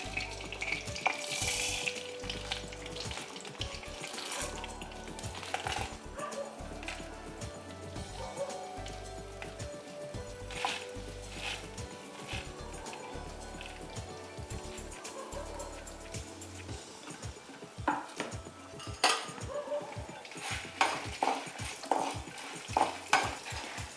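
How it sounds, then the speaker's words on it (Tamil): Chana dal, urad dal, coriander seeds and dried chillies dry roasting in a pan, with steady faint rattling, scraping and stirring against the metal and occasional louder clinks of the spoon, with no voices. "இந்த வாணலியில் இப்போ நம்ம கடலைப்பருப்பு, உளுத்தம்பருப்பு, தனியா, காஞ்ச மிளகாய் இதெல்லாம் போட்டு கோல்டன் கலரில் வறுத்து எடுக்கணும்"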